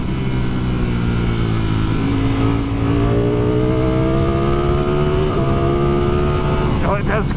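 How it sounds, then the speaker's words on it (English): A 2020 Ducati Streetfighter V4 motorcycle with its standard exhaust revs hard, its engine note climbing steadily in pitch as it pulls, loud and close throughout, with a brief sharper burst near the end. "How has this bike got through noise emissions?"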